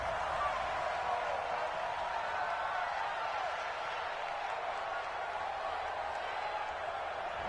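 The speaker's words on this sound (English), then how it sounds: "This home crowd, they're happy with that call." Home stadium crowd cheering a call in the Madden 20 American football video game: a steady, distant wash of crowd noise and roar, sustained without break.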